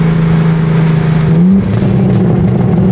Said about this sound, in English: Oh my god, it's so loud without the exhaust.